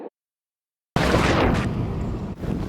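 In Life is Strange, a detonation bursts out of sudden silence, a loud close blast with a roaring, crumbling tail that dips briefly and then rumbles on.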